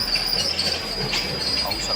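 The Mandovi Express waiting on the Konkan Railway produces a brief rumbling hum with a thin, high metallic squeal running through it, heard at moderate distance.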